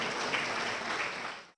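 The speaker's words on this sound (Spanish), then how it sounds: "Un fuerte aplauso, por favor." A lecture audience breaks into a short burst of dense, even applause that holds steady, then cuts off abruptly after about a second and a half.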